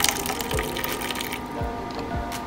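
Hot water pours from a smart water dispenser into a glass, a steady splashing stream filling the cup with a few low gurgling bursts throughout.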